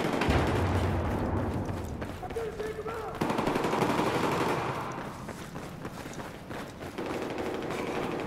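Automatic gunfire in the Battlefield 4 indoor map Operation Locker during team deathmatch, with rapid bursts and continuous rattling shots mixed with game noise and someone talking over it.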